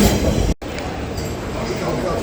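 Interior rumble of a Sydney airport-line train riding toward Mascot and the domestic and international airport stations, a steady broadband roar that cuts out briefly near the start, with faint voices underneath.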